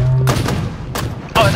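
Sniper rifle shots in a Halo team snipers match: three loud, sharp gunshot cracks with booming tails, spaced irregularly and heard up close.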